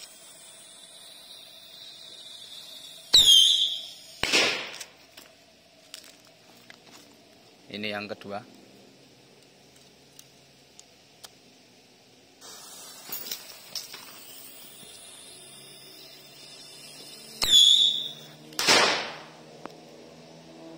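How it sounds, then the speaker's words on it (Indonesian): Rocket firecrackers launch in two rounds, each a sharp whistling hiss followed moments later by a loud crack, with quieter pops between and a voice speaking briefly. "Berikutnya ada mercon roket bolo"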